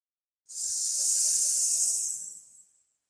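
A person in a yoga snake pose gives a long, loud hissing exhale imitating a snake, a steady breathy hiss lasting about two seconds before fading out, with no talking.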